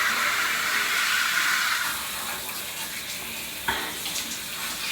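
A shower runs with a steady hiss of spraying water, louder for the first two seconds and then settling into a softer, continuous stream with a brief splash near the end.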